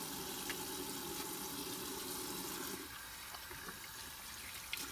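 Running tap water splashing steadily into a sink during handwashing, a continuous close hiss that changes tone partway through as the flow shifts.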